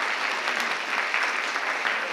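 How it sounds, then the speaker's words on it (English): An audience in a school district gathering breaks into steady applause, a continuous wash of many hands clapping at moderate loudness with no voices standing out. "you can clap for that"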